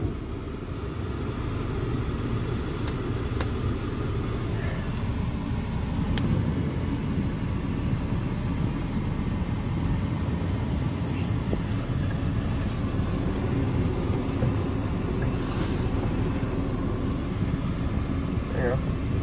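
A Jeep that has just been repaired pulls away, heard from inside as a steady low engine rumble with air conditioning hum running throughout, while people talk quietly.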